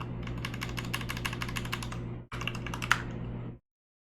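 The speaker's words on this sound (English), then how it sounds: "It helps if I can type properly." Rapid typing on a computer keyboard, a close, quick patter of clicking keystrokes that pauses for a moment, resumes briefly, then stops abruptly.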